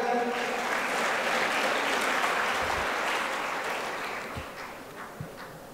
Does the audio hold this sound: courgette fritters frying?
no